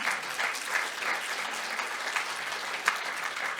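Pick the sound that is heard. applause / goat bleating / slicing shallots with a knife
applause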